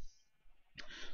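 A Minecraft sheep bleats in short, quiet blips, with a brief call at the start and a second, fuller bleat near the end, alone with no talk.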